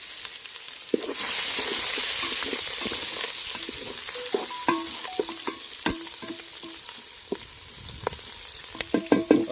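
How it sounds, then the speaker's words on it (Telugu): Onions and green chillies fry in a pan for village-style country chicken curry, a steady loud sizzle under repeated clinks and scrapes of a spoon stirring through the mix, with no talk. "ఉల్లిపాయలు అయితే బాగా వేగినాయి, బ్రౌన్ రంగులో వచ్చేసినాయి"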